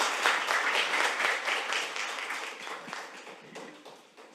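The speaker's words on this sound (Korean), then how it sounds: "큰 박수로 맞아주시기 바랍니다" An indoor audience at a parliamentary briefing session applauds steadily to welcome a presenter, with dense, loud clapping that slowly fades toward the end.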